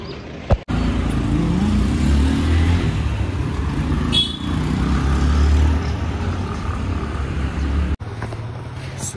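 A BMW car driving, a steady low engine and road rumble heard from inside the cabin, continuous and fairly loud with a few bumps and clicks at the start and end.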